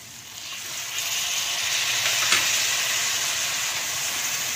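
Chopped tomatoes sizzle in a pan of frying onions while making a crab gravy, a steady broad hiss that swells slightly after the first second and holds, close and continuous.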